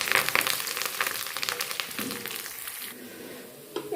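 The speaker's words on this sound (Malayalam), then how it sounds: "ഇനി ഈ സമയത്തിലേക്ക് കുറച്ച് കറിവേപ്പിലയും കൂടെ ഇട്ട് ഒന്ന് മൂപ്പിച്ചെടുക്കാം" Curry leaves fry in hot oil for beef vindaloo, a loud crackling sizzle up close that fades and softens toward the end.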